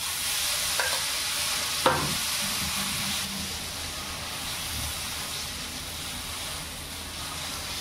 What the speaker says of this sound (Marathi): बेसनाचा पोळा आपल्याला तव्यात टाकायचा आहे